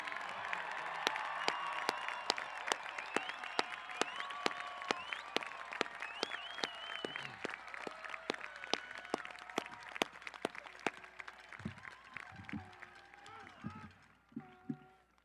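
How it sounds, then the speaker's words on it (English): Faint, sparse handclaps at a Grafton High School graduation ceremony for the class of 2022, distant individual claps scattered beneath ongoing talk and gradually thinning out. "Please join me in giving a large round of applause to the class of 2022"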